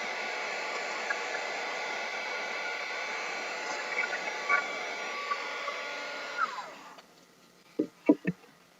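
A dryer blows a loud, steady, hissing whoosh over a handmade hearts-and-flowers craft piece, then switches off abruptly and leaves a few sharp clicks and knocks in the quiet.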